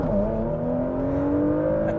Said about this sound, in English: it starts well with quite a tasty little exhaust note